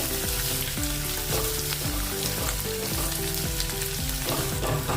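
Onions frying in a pan with asafoetida and curry leaves for a black-eyed pea (lobia) curry give a steady sizzle, with melodic background music playing throughout and no voices.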